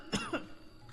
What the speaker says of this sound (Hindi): फुआ कांखती खांसती आई।